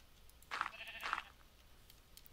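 Two quick sheep bleats from Minecraft, close together and moderately loud over a quiet background, each a short nasal baa.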